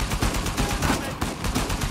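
Gunfire in the video game Uncharted 4: rapid, dense bursts of shots and cracks in quick irregular succession, loud and close, with a voice faintly mixed in.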